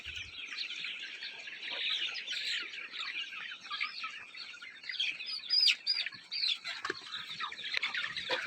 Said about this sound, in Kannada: ಸೊ ಇವಾಗ ನೋಡ್ತಾ ಇರುವಂಥದ್ದು ಬೆಳಿಗ್ಗೆ 6 ಗಂಟೆಗೆ ಹೊರಗಡೆ ಬಿಟ್ಟಿದ್ದೀನಿ. ತುಂಬ ಆ್ಯಕ್ಟಿವ್ ಆಗಿ ಇರುವಂಥ ಒಂದು ಕೋಳಿಗಳಾಗಿವೆ ಇವು.